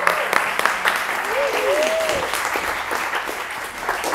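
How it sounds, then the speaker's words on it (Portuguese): Steady audience applause at a women-in-directing seminar, a dense, even patter of clapping that holds throughout, with a few voices faintly audible underneath. "Palmas para ela."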